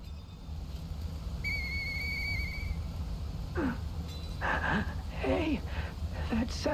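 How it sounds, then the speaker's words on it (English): In the video game Lies of P, a two-note tonal whistle sounds clearly over a steady ambient hum, followed by a character's speech. "I know that whistle."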